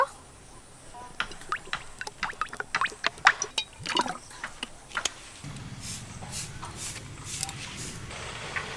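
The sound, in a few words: white oil poured into a wok for frying fish fingers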